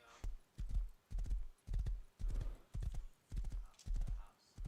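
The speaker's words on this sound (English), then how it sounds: "Because I got a horse, I can cover quite a large distance quickly." A ridden horse in the survival game Rust clip-clops in a steady rhythm of heavy, close hoof thuds, roughly two strides per second throughout, with nothing else over it.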